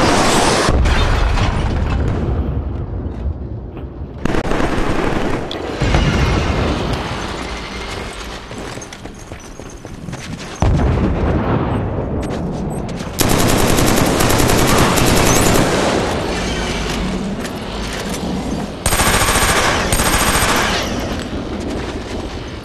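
Loud, near-continuous video game gunfire with rapid automatic bursts and heavy booms, including a C4 explosion, thundering almost without pause.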